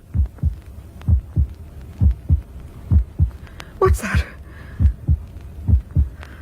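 A heartbeat in a radio drama thuds in steady paired lub-dub beats, loud and close, with a brief voice speaking over it midway.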